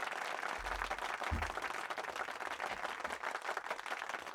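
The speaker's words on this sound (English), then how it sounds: "clicking sound effect long clapping" A crowd applauds continuously, a thick steady roar of clapping with a few low thumps underneath.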